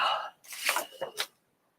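A short burst of sharp, breathy nasal exhalations, like a sneeze, followed by a couple of smaller catches of breath, then silence.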